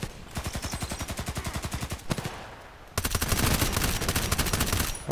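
Rapid, evenly spaced HK USP pistol shots from the Contract Wars shooter, a steady run of sharp reports, a brief pause, then a denser, louder string of firing close up.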